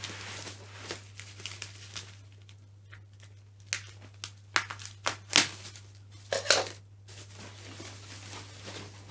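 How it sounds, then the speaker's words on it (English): Scissors snip and crinkle through the packaging of a Commodore C64G, giving a scattered series of sharp cuts and plastic rustles close by over a quiet steady hum. "let's get the scissors out"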